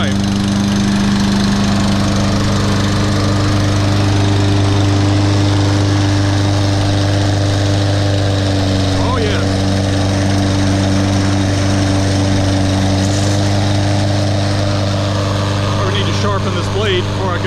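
Husqvarna HUF625AWD 22-inch all-wheel-drive walk-behind lawn mower running steadily up close, its loud engine drone constant throughout, with a voice occasionally heard over it.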